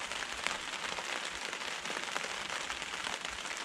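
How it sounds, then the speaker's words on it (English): Rain pattering on the roof of a woodland shelter, a soft, even hiss of drops with scattered light taps, faint and steady throughout. "it's raining"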